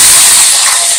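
Mustard seeds sizzling in hot oil for a suji breakfast sandwich, a loud steady hiss that stays even from start to finish.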